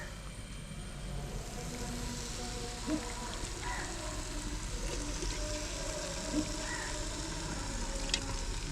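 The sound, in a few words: mutton sizzling as it is added to thick gravy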